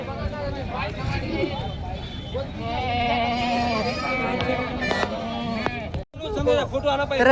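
Goats bleat repeatedly at a busy weekly goat market, several animals calling close by in overlapping, wavering cries, mixed with crowd chatter and people talking nearby.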